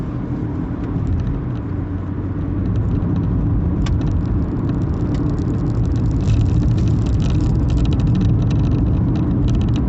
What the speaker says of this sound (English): this is a car you can have a wee bit of fun in as well, in sport mode